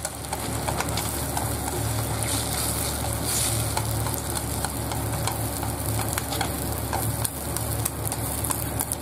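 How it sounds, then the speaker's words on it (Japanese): A single egg fries in an oversized pan for a plain Japanese rolled omelette, with a continuous close sizzle and light crackle holding steady throughout. "はいじゃあ焼いていきます入れます もう普通の卵焼きにしちゃいます"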